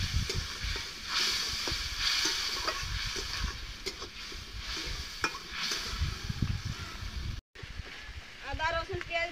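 Ginger, garlic paste and onion frying in oil with a steady sizzle and stirring scrapes, while someone talks over it; a short gap breaks the sound near the end.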